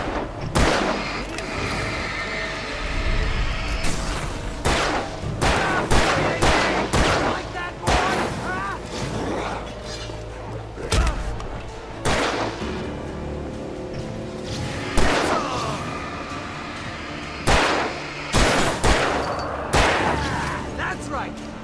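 A rapid series of video game gunshots cracks out in irregular bursts, loud and close, some in quick clusters and others spaced apart, mixed with the game's sounds while players talk over the shooting.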